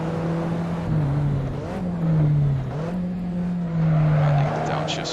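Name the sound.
Alfa Romeo 4C engine shifting gears in Assetto Corsa video game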